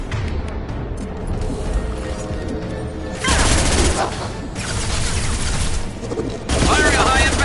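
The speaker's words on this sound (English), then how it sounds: "Firing a high-impact shot." Heavy gunfire and booming high-impact shots from a PS4 shooter game, loud dense blasts rising in bursts over a rumbling battle background, with voices speaking intermittently.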